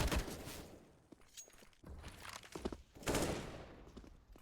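AUG rifle fire in a CS:GO match, short bursts of rapid gunshots, moderately loud, in several clusters separated by brief pauses, with a faint thump of footsteps between volleys.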